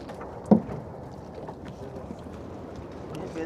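A fishing boat out on the sea off Kollam while nets are being hauled in, heard as a steady wash of water and wind noise with one brief loud knock near the start.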